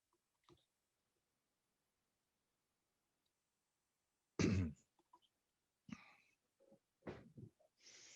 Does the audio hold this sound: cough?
yes